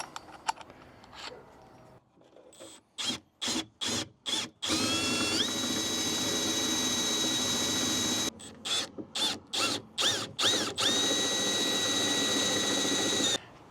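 A power drill bores a hole through the door of a Troopy camper, starting and stopping in short whining bursts before one long continuous run, then more bursts, close and loud with no talk.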